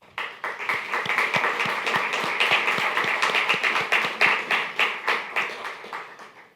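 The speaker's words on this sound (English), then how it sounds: "I think we all deserve a round of applause." Audience applause at the Daytona Beach State of the City address: close, sustained hand clapping with distinct individual claps, building and then gradually thinning out.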